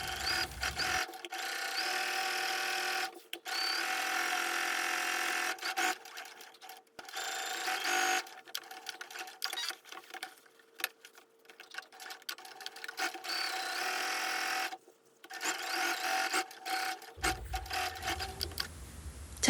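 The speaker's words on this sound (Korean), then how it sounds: "양옆을 약 1cm 간격으로 쭉 재봉해줍니다" A home sewing machine stitches the side seams of fabric for a shoulder bag, running in several separate bursts of fast, even mechanical chatter with short silent gaps and soft handling noises between them.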